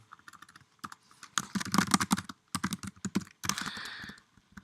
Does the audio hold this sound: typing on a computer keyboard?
yes